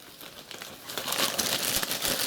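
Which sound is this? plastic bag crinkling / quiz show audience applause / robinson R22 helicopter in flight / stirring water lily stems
plastic bag crinkling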